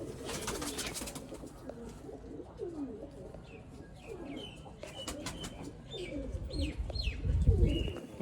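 Breeder pigeons cooing in soft, repeated rolling calls at close range, several birds overlapping, with a few chirps and a brief flutter of wings near the end.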